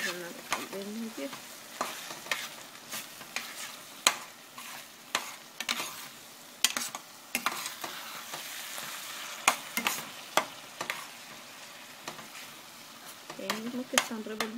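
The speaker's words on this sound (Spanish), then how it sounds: "Y le van a revolver muy bien." Eggs cooked Mexican style, stirred in a hot pan: a soft, continuous sizzle broken by frequent sharp scrapes and taps of the utensil against the pan, close and fairly quiet.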